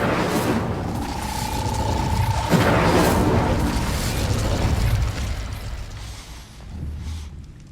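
Incendio fire spell cast in Hogwarts Legacy, a loud whooshing burst that swells into a sustained roaring blaze for several seconds before fading, with a thin tonal ring under the fire and no voices.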